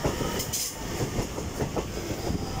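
Trains passing through Darlington station, a loud rumbling run of wheels with rhythmic clickety-clack over rail joints and a brief bright squeal near the start, with no speech.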